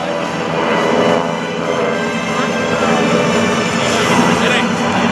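North American SNJ Navy trainer aircraft engines drone steadily at an air national guard open house and airshow, while an announcer talks over them on the public address throughout.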